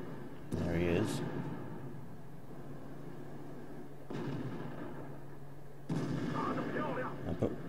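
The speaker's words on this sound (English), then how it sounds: "I put a shot in." Tank cannon shots in the World of Tanks video game, with two or three booming reports spaced several seconds apart and a faint background rumble between them.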